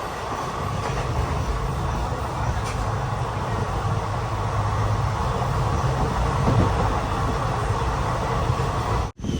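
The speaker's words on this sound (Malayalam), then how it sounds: "ട്രെയിൻ ഇതാ കാസർഗോഡ് റെയിൽവേ സ്റ്റേഷനിലേക്ക് എത്തിക്കൊണ്ടിരിക്കുകയാണ്" The special train from Jabalpur draws into Kasaragod railway station in Kerala with a long, steady low rumble of rolling wagons. The sound stays close and even, cuts out briefly near the end, and carries no talking.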